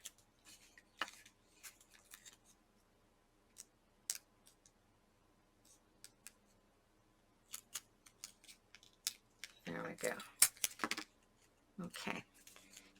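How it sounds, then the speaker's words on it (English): Scissors snip through washi tape in a few sharp, scattered clicks spread over a quiet stretch, with a denser cluster of cutting and handling noise near the end. "I'm going to use scissors because I don't want to risk it not breaking clearly"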